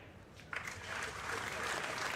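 An audience applauds at the Predator World 10-ball championship final between Joshua Filler and Ko Ping Chung. A steady wash of clapping swells in after half a second and holds, fairly loud and continuous, with no voices.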